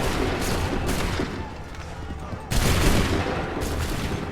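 Musket volleys in Assassin's Creed 3, loud dense bursts of gunfire that crash out and decay, with a second massed volley hitting hard midway and more shots trailing after.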